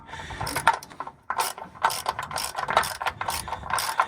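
Ratcheting wrench tightening bolts while mounting a transmission on a Cummins X15 truck engine, a quick series of sharp clicking bursts repeating close by, with no talk.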